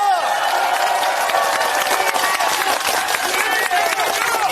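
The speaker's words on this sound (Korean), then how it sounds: "우리 전라북도 열성을 지켜주신 이재명 대표님께 큰 박수 한번 부탁드립니다" A rally crowd in North Jeolla applauds loudly and continuously, a dense wash of clapping mixed with cheering and shouting voices, constant from start to finish.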